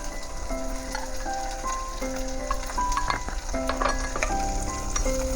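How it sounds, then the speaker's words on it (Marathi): Coarsely ground ginger-garlic paste fries in hot oil for a potato and green pea dry sabzi, crackling and sizzling steadily with a few spatula stirs and light pops, close and fairly loud, no talk. "ते पण आपण फ्राय करून घेऊया चांगला त्याचा कच्चेपणा निघून जाईपर्यंत आपण त्याला फ्राय करून घेऊया"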